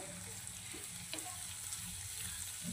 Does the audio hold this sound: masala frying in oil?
yes